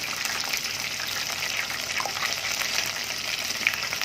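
Battered fish deep frying in a pot of oil, a dense, steady bubbling sizzle with small pops scattered throughout, moderately loud and close.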